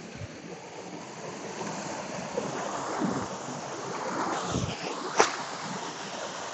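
A waterfall pours from above, a steady broadband rush of falling water heard from nearby, mixed with gusts of wind buffeting the microphone and no voices.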